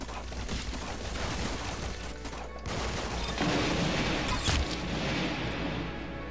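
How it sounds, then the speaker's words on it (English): Calico shotgun firing in the game Arsenal, a dense run of gunshots and booms against loud busy game noise, with heavier blasts toward the end. "Calico. This is a shotgun,"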